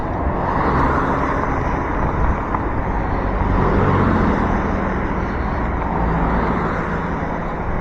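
Steady road traffic rumbles past in a wide bike lane, heard from an e-bike rider's position, with continuous engine and tyre noise mixed with heavy wind buffeting across the whole stretch and no talking.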